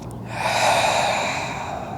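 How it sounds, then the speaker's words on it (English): A slow, steady exhale through the mouth during a yoga breathing exercise, a soft breathy rush that swells and then fades over about two seconds, close and alone. "and then exhaling through your mouth."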